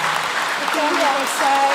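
Church congregation at a Kikuyu Sunday school service clapping steadily, a dense patter of applause with voices rising over it near the end.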